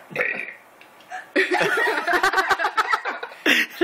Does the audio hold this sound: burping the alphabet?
yes